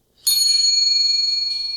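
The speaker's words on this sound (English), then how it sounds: "A nice, delicate bell." A delicate small bell struck once, ringing bright and clear, then fading slowly with a gentle pulsing shimmer, alone in silence.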